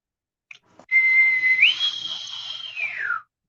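A person whistles in imitation of a ship's bosun pipe, holding a steady high note that slides upward, then sustains and falls away at the end. The single close whistle lasts about two seconds.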